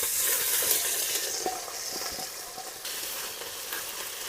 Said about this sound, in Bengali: আদা রসুন বাটাটা ভালো করে ভেজে নেবো